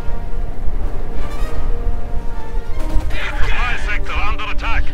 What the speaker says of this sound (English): Panzer Grenadiers set off the TM-35 mine